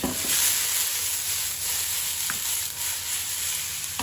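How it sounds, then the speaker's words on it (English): Garlic and onions sizzle in hot oil in a wok, a steady close hiss with a few faint stirring clicks. "Then we're gonna put the garlic and the onions on it."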